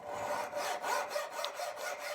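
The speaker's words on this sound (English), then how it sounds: "I use a hacksaw and a file to remove the excess material." A hacksaw and file taking excess material off a faceted wooden knife handle, heard as a steady rhythmic rasping of short back-and-forth strokes, close and moderately quiet, with no talk.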